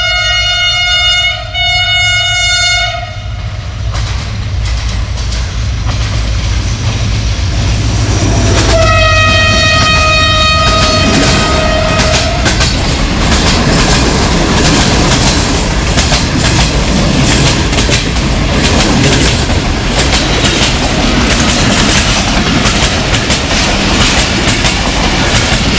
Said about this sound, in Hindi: अभी जो आने वाली ट्रेन है 44 डाउन शाह हुसैन